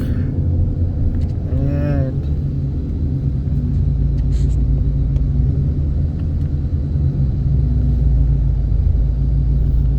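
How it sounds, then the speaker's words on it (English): A 2018 Ford Mustang GT with a 10-speed automatic and Corsa Extreme exhaust, heard from inside the cabin while driving: a loud, deep, continuous engine rumble, with a brief voice early on. "That's a good taste of what the Corsa Extreme exhausts sound like."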